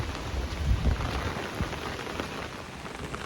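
Heavy storm rain pours down steadily in Jaffna, flooding roads, a dense hiss of drops drumming on surfaces, with a low rumble underneath early on.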